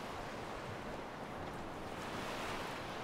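Steady washing of water waves in the video game Skyrim, a constant broadband surf-like roar with no talk over it.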